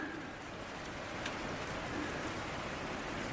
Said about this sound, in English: Lots of rain falling at the moment.